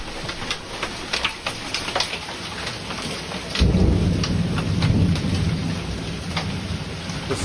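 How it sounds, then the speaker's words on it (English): Large hail pelts down during a thunderstorm in Louisville, Texas, a dense, loud clatter over steady rain that grows heavier and rumbles lower partway through, with no voices. "This was just a few minutes ago of the large hail."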